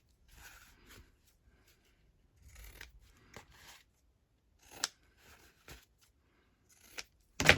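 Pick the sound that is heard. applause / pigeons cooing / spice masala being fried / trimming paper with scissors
trimming paper with scissors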